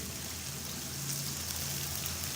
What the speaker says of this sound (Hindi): हल्का सा पानी ऐड करेंगे